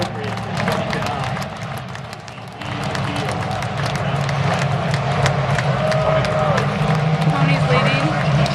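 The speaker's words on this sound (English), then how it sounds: "The fans are now clapping." Race fans in the grandstands clap and cheer as the pace car crosses the start-finish line at an IndyCar race, a dense, steady roar of crowd noise running throughout beneath a commentator's voice.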